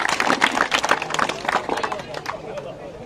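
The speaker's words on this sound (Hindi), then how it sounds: "एक बार जोरदार तालियों से इनका स्वागत करें" A crowd at a public speaking event claps for a speaker being welcomed, dense applause mixed with murmuring voices that fades over about three seconds.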